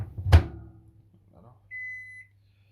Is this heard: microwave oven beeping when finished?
yes